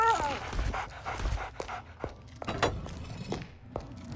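A dog in the video game Arx Fatalis pants and whimpers in short breathy bursts and soft whines, fairly close and mixed with game sounds.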